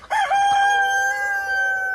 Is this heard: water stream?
no